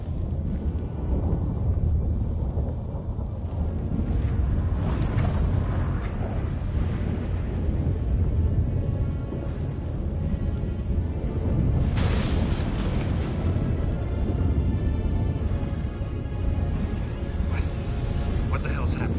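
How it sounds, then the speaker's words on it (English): Storm in The Witcher 3 video game, a constant heavy roar of wind and rumbling thunder that swells and booms partway through, loud and dense throughout. "That a storm?"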